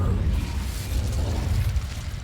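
An Incendio fire spell is cast in Hogwarts Legacy, releasing a steady roaring burst with heavy low rumble and crackling fizz that persists at high, close volume for a couple of seconds.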